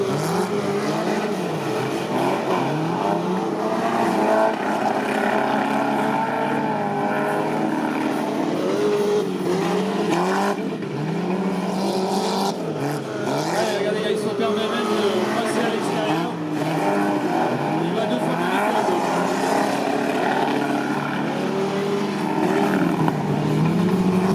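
Race car engines drone and whine continuously as cars lap the track at a 2016 race at Bonnemain, shifting pitch as they accelerate, with French commentary talking over them throughout.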